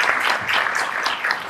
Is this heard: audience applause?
yes